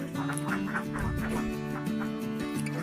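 Laying ducks on a duck farm quacking in a busy, overlapping chorus of repeated nasal calls, close and fairly soft, with no talk.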